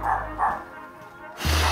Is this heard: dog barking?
yes